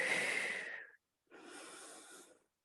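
Two audible breaths during a Pilates floor exercise, a long rushing inhale that cuts off, then after a short pause a softer, airy exhale; close and alone, with no talk.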